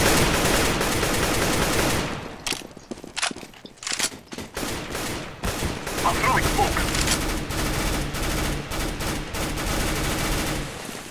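Rapid bursts of gunfire from CS:GO, dense and loud, with a short break of scattered shots before the firing resumes; no speech.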